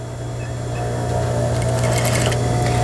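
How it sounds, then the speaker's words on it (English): Sewing machine back stitching a railroad zipper, a steady close whirring hum that runs without a break and builds slightly louder. "I'm going to turn my machine to my regular stitch length, and I'm going to back stitch"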